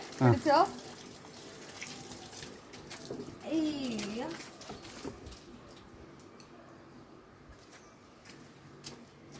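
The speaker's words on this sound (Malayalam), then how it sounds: "അയ്യോ നിന്റെ പൈപ്പ് നിർത്തട്ടെ." A water tap runs with a steady rushing flow while a voice speaks briefly at the start, then the water carries on softly at moderate distance.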